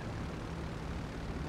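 An airplane comes in to land on a runway in GTA V Online, its engine a steady, loud broadband roar with no break through the whole stretch.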